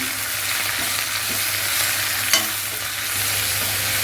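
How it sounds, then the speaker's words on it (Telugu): Gongura leaves with salt are stirred in oil in a frying pan, a steady low sizzle under soft scraping stirs and one brief sharper clatter of the spoon, with no talking. "సాల్ట్, ఇవన్నీ వేసి ఇలా కలుపుదామండి."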